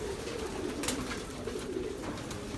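Racing pigeons coo softly and continuously at a pigeon loft, the low cooing steady and at moderate distance against a faint background hiss.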